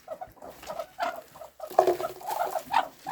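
Hungry domestic geese honking in a few rough, uneven bursts, close by, with short pauses between the calls.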